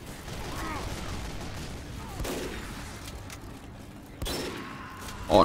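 Gunfire in Team Fortress 2, with a steady rattle of shots running under the game's ambience and a few sharper bursts near the end.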